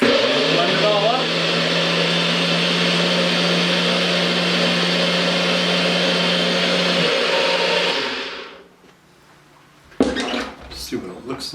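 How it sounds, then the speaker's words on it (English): A kitchen blender whirring through Baja sauce of jalapenos, vinegar, mustard powder, sugar and salt: a loud steady motor drone for about eight seconds that then winds down and stops, followed by a brief clatter of handling. "we're just gonna blend it all up"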